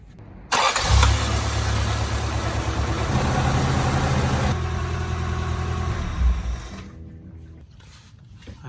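A Toyota AE86 engine catches and settles into a steady idle after an oil flush additive is poured in, a close, even mechanical rumble with a fast ticking texture that eases back and quiets near the end.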